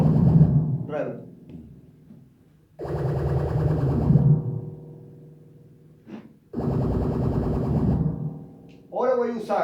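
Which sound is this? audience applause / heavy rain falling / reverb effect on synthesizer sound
reverb effect on synthesizer sound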